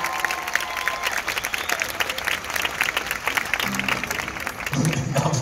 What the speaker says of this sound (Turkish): Bir alkış diyebilirim